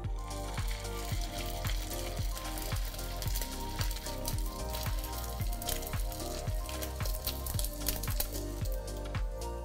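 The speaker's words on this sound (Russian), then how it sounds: "Блинчики готовим на подсолнечном масле, домашнем, бессарабском, классном и вкусном" Pancakes of carp roe fry in homemade Bessarabian sunflower oil, a continuous crackling sizzle with dense, rapid spattering pops throughout, steady and close.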